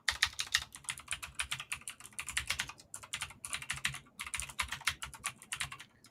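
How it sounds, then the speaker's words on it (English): Rapid, continuous keystrokes on a computer keyboard, loud and close, clicking in uneven bursts with brief pauses, with no voices. "Sorry about the typing"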